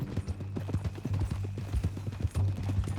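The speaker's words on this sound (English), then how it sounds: "That a new horse?" Hooves of a horse in Red Dead Redemption 2 clip-clop in a steady walking rhythm, close and clear over a low constant hum, with no speech.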